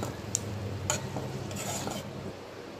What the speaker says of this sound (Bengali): পোস্ত বাটাটা দেওয়ার পরে আবার একটু নাড়াচাড়া করে আমি গ্যাসের ফ্লেমটা অফ করে দিচ্ছি।